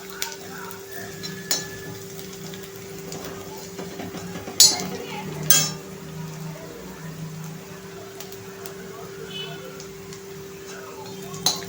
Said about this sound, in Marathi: एक 2 मिनिटं परतूया।